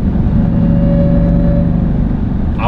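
A Jeep Grand Cherokee Trackhawk, the 710 PS SUV, pulls hard under acceleration, its engine a loud, close, sustained low drone with a rising tone and a brief shift break near the end.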